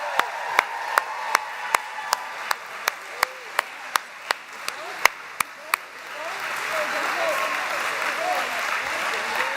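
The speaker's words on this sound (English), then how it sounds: "We all applaud you." At a high school commencement in a gym, a slow, regular run of loud single claps rings out close by, then gives way to a broad wash of crowd applause and cheering that fills the room.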